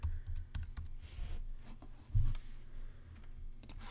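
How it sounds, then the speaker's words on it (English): Computer keyboard typing at close range while text is entered for a banner in GIMP. Quick irregular key clicks come in short bursts with one louder thump near the middle. "And then start typing."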